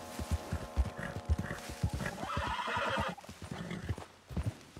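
Horse hooves clip-clop in a steady trot through Red Dead Redemption 2 on PS5, with loud whinnying neighs rising over the hoofbeats midway, the horse close and prominent.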